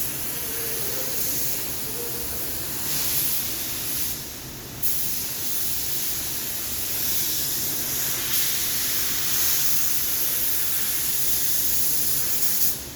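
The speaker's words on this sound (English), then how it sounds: "make sure your fan and the pattern is spraying correctly" A spray gun sprays base coat onto car parts at about 14 to 17 psi, giving a steady, loud airy hiss that runs nearly unbroken with brief swells.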